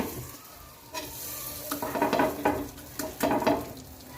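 Vegetable pudla batter spread thin with a ladle across a hot pan on a low flame, giving a soft sizzle with louder scraping, hissing bursts near the middle and end.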